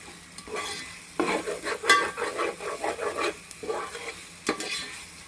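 Tomatoes being stirred in a hot pan for Nellore-style chicken biryani, a spoon scraping and turning the softening mix over a steady sizzle, with louder bursts of stirring in irregular strokes.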